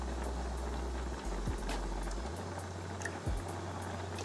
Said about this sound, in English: I'm about to pour in some heavy whipping cream.